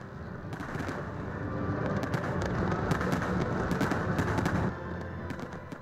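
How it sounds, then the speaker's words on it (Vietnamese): Fireworks display at the Da Nang international fireworks festival, with Italian and American teams performing: a dense, continuous rumble of bursts and crackles that rises, then eases near the end. "Màn trình diễn của hai đội pháo hoa đến từ Italy và Hoa Kỳ đã khiến khán giả đi hết từ bất ngờ này đến bất ngờ khác"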